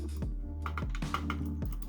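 Sharp, tactile clicks from the buttons and dials of a TourBox editing controller used in an animation studio, arriving as several crisp, close taps in an irregular rhythm over a low steady hum, with no talking.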